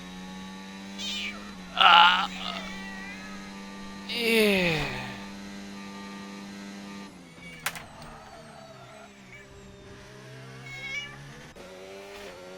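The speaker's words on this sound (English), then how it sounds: "Hold on, we're gonna get the kitty on my lap here." A domestic cat meows twice up close, the second call long and drawn out, over a steady electrical hum and faint game sound, with one brief spoken word.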